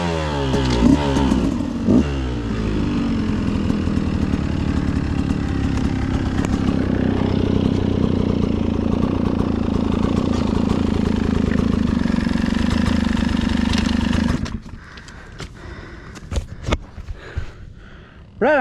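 A 2022 Beta 200RR Race Edition motorcycle runs close by for about fourteen seconds, a steady mid-pitched engine note with clattering revs, then cuts off, leaving a few faint knocks and rustles.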